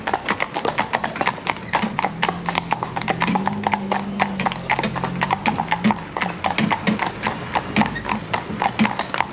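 Horse hooves clip-clop in a steady, brisk rhythm throughout, fairly close, with a low rumble underneath, from a horse working without blinkers.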